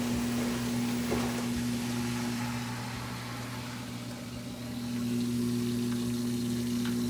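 A GE washing machine drains for the second time, its pump running with a steady low hum and a constant rush of water flowing out, loud and close, with no talking.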